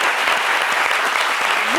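A studio audience applauds for Didier Drogba's birthday on a midday TV show, a continuous dense clapping throughout, with a voice speaking over it near the end.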